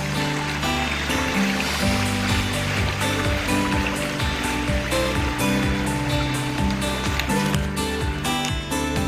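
A stream rushes steadily around a stepping stone crossing on a Virginia trail, a loud, continuous wash of flowing water heard up close with no pauses.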